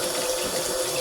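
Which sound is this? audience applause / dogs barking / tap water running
tap water running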